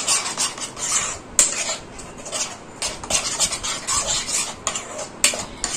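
Taro and hilsa are mixed by hand in a bowl with green chillies, salt and turmeric, giving a close, continuous wet squelching and rustling with a few sharp clinks against the bowl.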